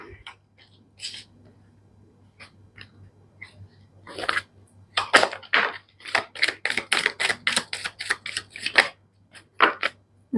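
Tarot cards are hand-shuffled during a reading: rapid, irregular flicking and slapping clicks start sparse, then grow dense and loud, over a low steady hum.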